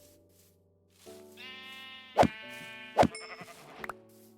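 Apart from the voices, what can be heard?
sheep bleating in the video game Minecraft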